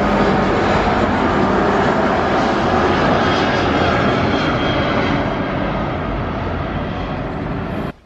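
A low-flying airplane roars overhead on its landing approach over Warsaw, a loud, steady broadband rumble that holds for several seconds before cutting off abruptly at the end.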